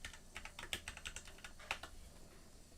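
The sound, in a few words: typing on a computer keyboard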